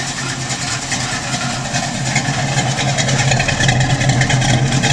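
A Trans Am and a 1972 Chevrolet C10 idle nearby with aftermarket exhaust, a steady low rumble that grows slightly louder and rougher partway through, with no talking.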